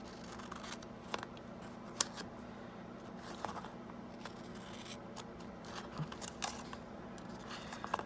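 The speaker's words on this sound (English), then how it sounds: "And then I'll just take my scissors and trim" Scissors snip and trim around the edge of a paper mini slimline card, a soft, faint run of small cuts and scrapes close by with no talking.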